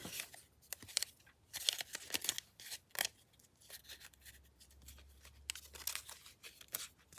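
Scissors snip through paper for a handmade ephemera corner pocket, with a run of crisp, quiet cuts and rustles in an irregular rhythm and no voices.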